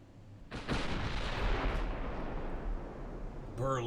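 A battleship's massive 14.3-inch guns fire in the naval video game Ultimate Admiral Dreadnoughts, giving a loud, deep boom that rolls on for about three seconds before a brief sound at the end.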